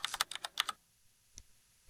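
A quick burst of typing on a computer keyboard: about eight rapid key clicks in the first second, then near silence with a single fainter keystroke after.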